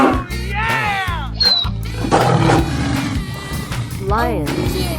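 A cartoonish lion roars in a 3D animal slide game, with rising and falling growls over looping background music and an excited voice speaking alongside.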